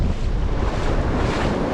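Ocean surf crashes on a beach in El Salvador, a continuous loud roar of waves mixed with heavy wind buffeting the microphone, with no voices.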